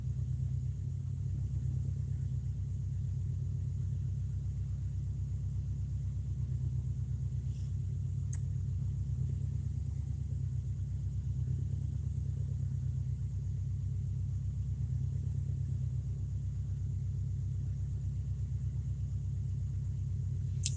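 A car engine idles steadily while warming up, with a continuous low rumble and hum that holds close and even throughout, with no voices.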